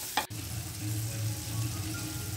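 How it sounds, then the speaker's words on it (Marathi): Carandas berries sautéed with salt in a pan, a quiet steady sizzle with a brief sharp clatter near the start, low and close with no talking. "करवंद टाकून आपल्याला याला परतून घ्यायचं आहे आणि याच्यात थोडंसं मीठ टाकायचं आहे"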